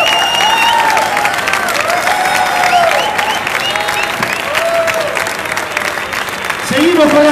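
An audience at a tango concert applauds steadily while someone speaks over the clapping. Pitched tones drift through the sound.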